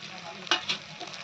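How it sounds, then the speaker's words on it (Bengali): Soft sizzle of spice masala frying in a pan with a couple of quick stirring scrapes, quiet and close. "আবারও ভালো করে নাড়িয়ে নেবো, মশলাটা ভালো করে কষিয়ে নেবো।"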